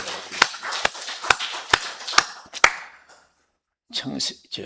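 Congregation members at a Sunday service clap in a slow, even rhythm, about seven sharp claps close by, then a brief silence before a short burst of further sound.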